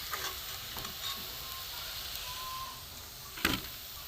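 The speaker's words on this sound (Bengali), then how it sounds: "দেখুন পুরো লাল করে ভেজেছি" Catla fish balls frying in hot oil until deep red, a soft, continuous sizzle with light stirring scrapes and a brief louder clatter near the end, no talking.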